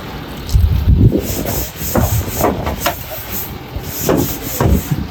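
Scrubbing and wiping inside during a portable restroom service cleaning. The close brushing and rubbing strokes come in irregular bursts of varied strength, with no speech.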